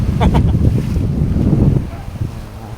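Strong monsoon wind buffets the microphone beside rough sea waves at a coastal dike, a loud, churning low roar with gusty surges that eases off toward the end.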